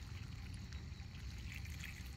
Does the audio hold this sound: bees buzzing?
no